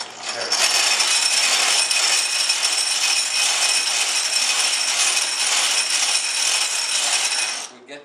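An antique hand-cranked grinder being turned, giving a steady, loud, continuous grinding rasp for about seven seconds with no pauses.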